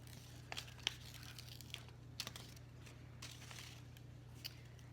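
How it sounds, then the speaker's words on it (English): Backing being peeled off hand-cut vinyl stencils, faint crinkly tearing and small crackling ticks at scattered moments over a low steady hum, quiet and close with no talking. "I'm just gonna peel the backing off of these very carefully."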